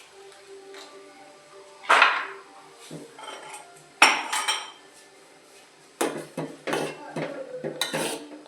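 Maggi masala being added to instant noodles cooking in a pan, heard as a few sharp metallic clinks and scrapes of a utensil against cookware in bursts, close and fairly loud, with quiet gaps between them and no talking.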